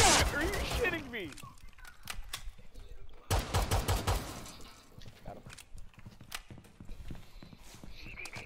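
Bursts of rapid gunfire in Rainbow Six Siege, sharp repeated shots in clusters with dense clattering strikes between them, loud and close, with excited voices talking at times.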